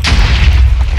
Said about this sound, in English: Gotta watch all these explosions and make sure they don't damage us.